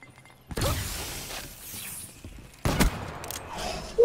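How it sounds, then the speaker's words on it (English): Annihilator pistol fire in Call of Duty Black Ops 3 on an urban town map: a sharp heavy report cracks out early, followed by a second loud shot a couple of seconds later, with faint footsteps and game noise between. "Literally walked around the corner and just fired my annihilator."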